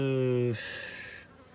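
A brief buzzing of honey bees at a hive, close and fairly loud, fading out after a second.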